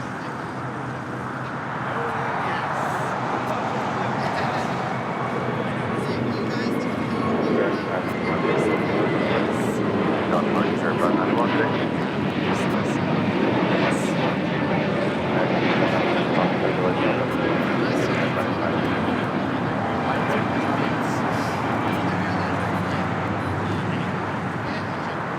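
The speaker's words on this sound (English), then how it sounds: "Spirit Airlines Flight 591 heading to Houston. It's an A321neo. It's the next takeoff here on the south side." A Spirit Airlines A321neo bound for Houston takes off from the south side of LAX, its engines a broad, sustained roar that holds steady throughout, heard from a distance.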